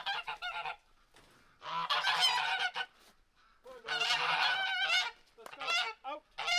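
Guard geese honking loudly and close by, several bursts of harsh, raspy calls coming in irregular clusters with short quiet gaps between them.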